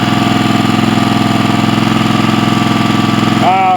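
A 22 horsepower Kohler CV22 engine with a charging fault, running at a steady, loud, close idle with a throbbing mechanical hum throughout, alone without talk.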